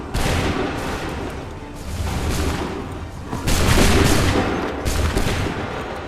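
Musket volleys crack out in Assassin's Creed III, dense overlapping gunfire in two or three loud bursts with a rumbling battlefield wash between them.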